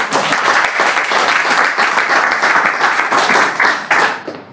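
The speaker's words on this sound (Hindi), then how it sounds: "एक जोरदार ताली।" An indoor audience at a branch-office talk breaks into loud, dense applause, many hands clapping steadily up close before it starts to fade at the end.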